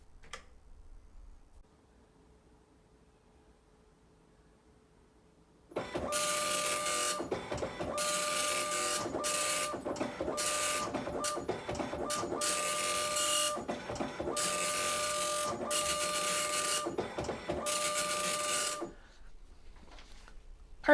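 An Apple ImageWriter II dot matrix printer prints in loud, buzzing, rasping bursts, line after line with short pauses between passes. It starts after several seconds of near silence and stops near the end.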